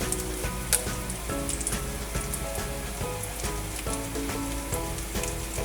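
Bay leaves sizzle in hot oil in a pan, with a steady crackling hiss and fine popping that holds evenly throughout, while faint music plays underneath.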